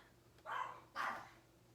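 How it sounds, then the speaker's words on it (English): Two faint barks from dogs outside, well spaced and distant, over a quiet room with no speech. "if you hear our dogs, they're probably chasing a butterfly outside"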